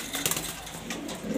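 A pair of pigeons, a male and a female, coo softly in short low murmurs, faint and close, with a few light rustles.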